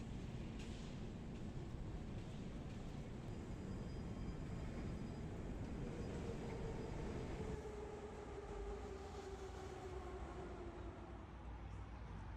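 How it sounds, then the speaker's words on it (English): A Moscow Metro train runs underground with a steady, loud rumbling roar and rattling wheels throughout, the pitch of the motors gliding as it changes speed, with no talk over it. "Here we needed to take the Moscow Metro,"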